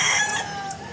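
A Possum line rooster gives a brief, close, loud crowing cluck, lasting about a second.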